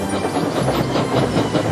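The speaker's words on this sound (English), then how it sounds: "Who's that puffing down the track?" A steam train puffs steadily along the track with a rhythmic chugging and rattling, loud and close, with no voices.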